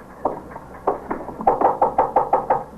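A knuckle rapping on a wooden office door in a police squad room, a few hesitant knocks followed by a firm, evenly spaced series of about eight raps, close and clear.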